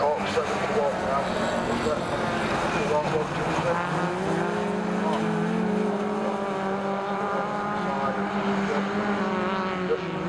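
Autograss race cars in a final at Scunthorpe race around the track, several engines droning and whining in overlapping pitches, while a commentator talks throughout over the racing.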